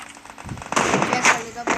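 Gunfire in a shooting video game sounds as a quick cluster of sharp, close shots, from a headshot moment, with a voice faintly present.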